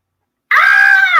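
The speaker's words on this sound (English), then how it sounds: "Say something loud, like scream." A person lets out one loud, sustained scream that starts abruptly after a moment of silence and holds for almost a second, close and harsh, heard over a call.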